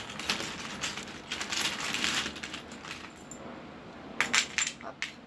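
Small charms and runes tumble onto a divination tray in a run of light metallic clinks and rattles, near and fairly busy, followed by a few sharper clicks.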